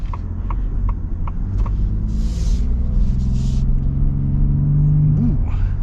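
A 2024 Ford F-150 Platinum PowerBoost hybrid pickup accelerating in a parking lot, a low steady cabin rumble that builds gradually with a faint whine near the end.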